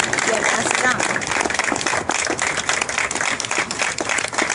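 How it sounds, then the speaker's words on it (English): Audience applause at an awards ceremony for a survival trial competition: loud, sustained crowd clapping that fills the whole stretch, with a steady dense rattle of many hands close by. "Let's give them a round of applause."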